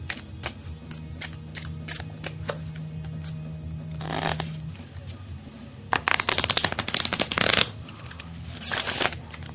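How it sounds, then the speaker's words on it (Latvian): A deck of playing cards is handled and shuffled for a card trick, with soft taps and slides giving way to a loud, rapid riffle burst, then a shorter riffle near the end. "Tātad jūs varat iedot kārtas tam, kam jūs rādat triku, lai samaisa."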